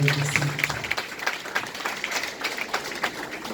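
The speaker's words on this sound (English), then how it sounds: "Please, a round of applause for the" An audience claps at the Centagon International School graduation ceremony, a moderate wave of applause that rises after a voice at the start.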